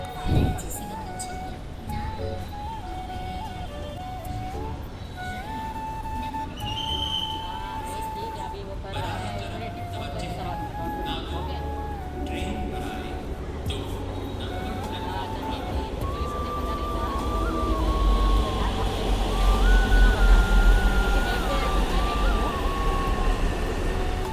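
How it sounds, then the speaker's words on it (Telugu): A metro train arrives at a busy city station with a rising rumble and rhythmic clatter that builds toward the end, over crowd hubbub and a voice talking, with electronic chime-like tones. "ట్రైన్ వచ్చేస్తూ ఉంది టక్ టక్ టక్ టక్ టక్ టక్ టక్ టక్."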